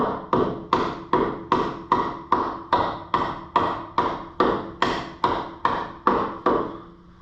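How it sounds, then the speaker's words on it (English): A dead blow hammer knocks out a suspension bolt on a 2006 Dodge Mega Cab truck during a coil spring lift install, with about fifteen evenly spaced, solid, loud thuds struck close by in a steady rhythm. "So, grab our dead blow,"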